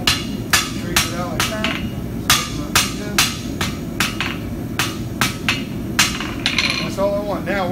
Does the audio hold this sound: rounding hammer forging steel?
yes